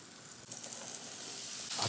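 Smoked bacon and pieces of lard sizzle in a frying pan with a steady, soft crackling hiss, close but quiet, and no voices.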